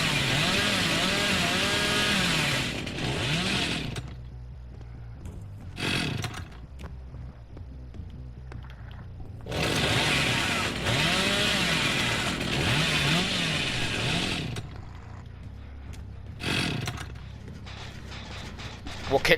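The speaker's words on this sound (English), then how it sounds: "We're going to use the chainsaw to close the distance." A chainsaw revs in the horror video game Dead by Daylight, in two long loud snarling bursts of roughly four and five seconds separated by quieter gaps, with a voice talking over parts of it.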